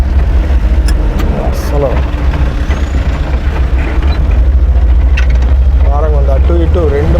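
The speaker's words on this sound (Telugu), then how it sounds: "చూడండి ఎట్లా వస్తూనే ఉన్నాయి అసలు బళ్ళు అయితే" Dense traffic on a busy road near a crossing point in Nellore: a loud, steady engine rumble with vehicles continuously passing close by and a brief air-brake hiss, while a person talks over it.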